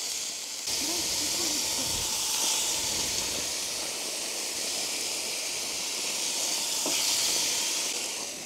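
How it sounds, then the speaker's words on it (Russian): Steady loud sizzling and hissing of chicken thighs and drumsticks frying on a hot grill, with a brief faint voice near the start. "Пусть жарится."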